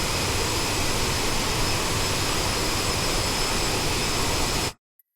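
Aerosoft CRJ-700 regional jet engine in a flight simulator game, a loud, steady broadband roar that holds constant and then cuts off abruptly near the end.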